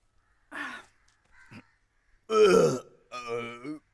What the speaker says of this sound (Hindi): मेरे डकार की आवाज थी